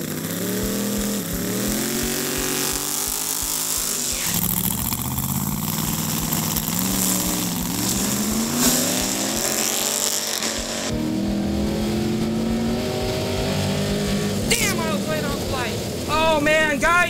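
A drag racing car makes a straight pass on engine power alone, heard from close by as a loud engine that climbs in pitch through repeated surges and shifts, with a voice speaking over it.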